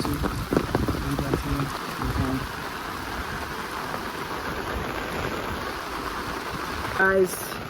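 Heavy rain pours steadily over a village on a rainy day, a dense continuous hiss of drops on surfaces that stays loud and close throughout, with a brief louder splash or clatter near the end.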